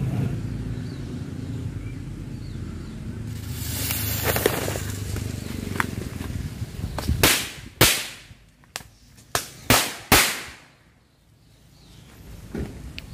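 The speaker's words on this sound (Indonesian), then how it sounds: "sekarang kita cobain petasan korek Cina. Ini katanya meletusnya 2 kali." A Chinese matchstick firecracker set off outdoors: a hiss and fizz, then a run of sharp, loud cracks in quick succession that fade to quiet.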